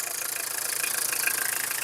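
Tata Indica 2009 car engine idling, with a fast, even rhythmic pulsing and a light knocking clatter, close and steady.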